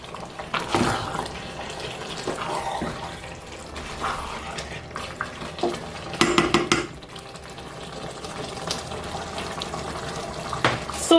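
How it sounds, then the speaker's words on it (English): A spoon stirs egusi soup with bitter leaf in a pot, giving soft scraping and liquid sloshing with a few louder clinks against the pot. "I'm going to stir that together again"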